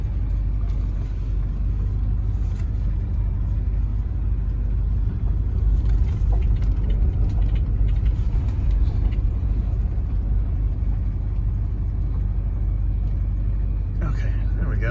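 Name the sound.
1969 Cadillac De Ville backing up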